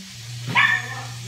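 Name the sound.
dog barking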